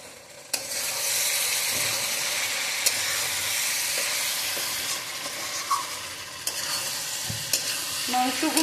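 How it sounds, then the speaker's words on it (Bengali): Chicken mince with cumin and coriander powder being stir-fried in a pan: continuous soft sizzling with intermittent scraping and clinks of a spatula, close and steady, no talking. "আমি এতে কষিয়ে কষিয়ে মাংসগুলোকে একদম সিদ্ধ করে ফেলব।"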